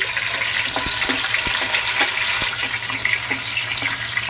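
Chopped onions and green chillies added to hot oil with cloves, cinnamon and mace, giving a steady, dense sizzle with small crackles and pops close by.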